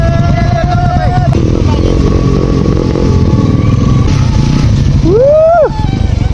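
A motorcycle engine drones steadily and loudly throughout as it rides, with a high whine rising and falling near the end.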